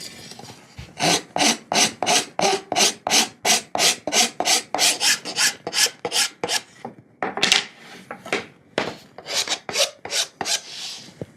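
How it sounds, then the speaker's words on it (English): A file or sandpaper worked back and forth over wooden jig risers, a rapid run of about twenty rhythmic rasping strokes, then a short pause and a looser series of strokes, close and alone with no talking. "I'm going to take a file or some sandpaper or something and really clean those up so I can get this in there nice and square"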